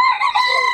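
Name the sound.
rooster crowing at a chicken market in Bocaue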